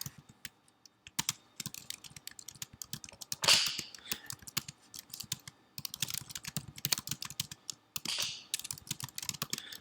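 Fingers tap quickly on a computer keyboard in a quiet office, a close run of irregular clicks and keystrokes with louder spacebar-like thumps scattered through, and no voices.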